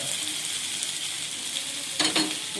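A sautéed mixture sizzles steadily and close by, then hot water is poured in, giving a short, louder hissing surge before the sizzle settles again.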